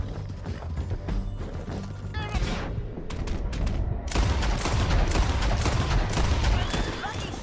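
Gunfire in the video game Red Dead Redemption 2, sharp cracks scattered among hoofbeat-like clatter and mechanical clicks, with a voice speaking over the busy mix.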